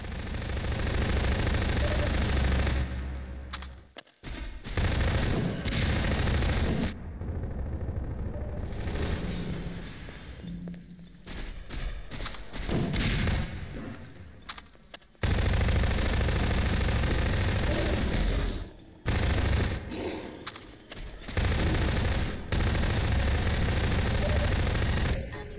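Gunfire in Half-Life 2, loud sustained bursts of rapid shots with abrupt stops and gaps, dense and close.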